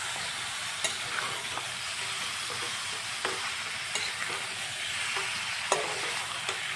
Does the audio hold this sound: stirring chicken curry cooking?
yes